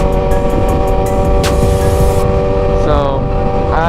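A Chevrolet Camaro ZL1 rumbles past nearby, its steady engine drone rising and falling over a few seconds amid loud road and wind noise.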